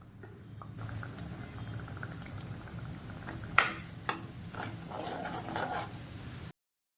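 A pan of thick masala gravy for egg curry bubbles and simmers steadily, with a couple of sharp pops standing out.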